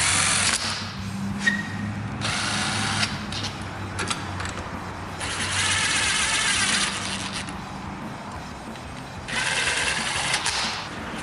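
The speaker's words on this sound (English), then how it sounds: "I'm just gonna run these in nice and easy with my impact, just to make sure that everything seats." An impact driver runs screws into a 2005 KLX110 dirt bike in several separate bursts of whirring and rattling, close and moderately loud, with quieter gaps of handling noise between them.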